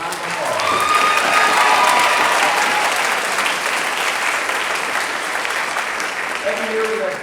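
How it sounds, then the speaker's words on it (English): Audience at a Hendrix College choir spring concert applauds the graduating choir seniors, with dense, steady clapping filling the hall throughout and scattered voices and cheers mixed in. "So let's give our seniors a round of applause"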